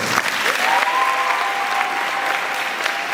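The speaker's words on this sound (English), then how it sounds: "Clap hands for yourself." An audience at a school mathematics, sciences and technology event claps hands steadily and loudly throughout, a dense continuous applause with a faint whistle-like tone drifting across the middle.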